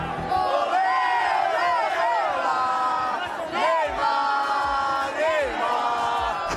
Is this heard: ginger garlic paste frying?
no